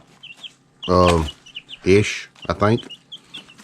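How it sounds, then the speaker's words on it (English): Week-old chicks peep in a chicken coop, their short, high chirps scattered throughout and fairly faint, while a person talks over them in close, loud bursts. "I guess these chicks in here are like a week old"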